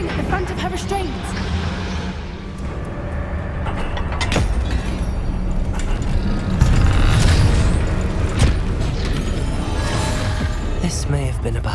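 A Bombarda blasting spell goes off in Hogwarts Legacy, a loud booming blast rolling into sustained rumbling and crashing debris, layered under a game soundtrack with voices speaking over it.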